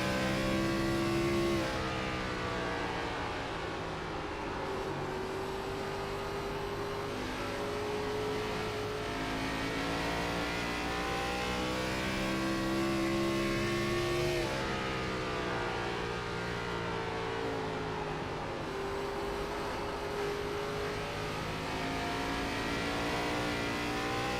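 Race cars in an online ARCA series video game at Iowa drone around the track, a continuous layered engine whine from several cars that shifts in pitch as they pass, with no talking.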